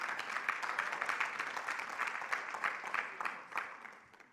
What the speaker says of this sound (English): I'm glad you guys are clapping.